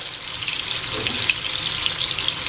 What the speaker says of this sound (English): we are going to drain away any of the extra grease that's in here or the oil that's in here